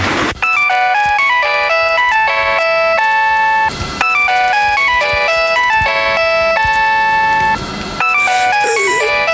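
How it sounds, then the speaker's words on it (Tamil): An electronic phone ringtone plays in a Tamil radio drama, a loud steady melodic ring of repeating tones with two brief gaps, alone without voices. "என்ன ஃபோன் ரிங் போய்கிட்டே இருக்குது எடுக்க வர மாட்டேங்கிறான்"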